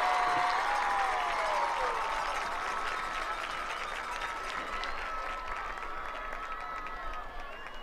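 A crowd applauds for the bands at a 2018 Stallion Classic band competition, sustained clapping and some cheering that slowly fades, with faint whistles and voices mixed in.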